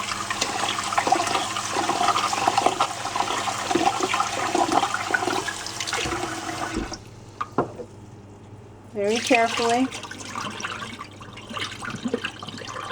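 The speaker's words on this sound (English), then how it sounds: "I'm going to pour off that water" Rinse water poured off rice in a pot, a steady rushing splash and trickle for several seconds that stops abruptly, followed by a few clinks and a short second pour. A voice speaks briefly over it.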